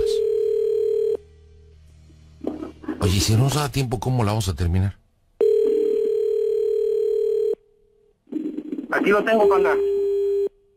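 A telephone dial tone sounds in long steady stretches, cutting off and returning, with busy-signal pauses while someone dials a number; people talk loudly over the gaps on a Mexican comedy radio show.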